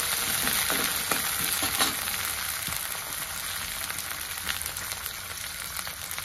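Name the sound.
green peas frying with onion in oil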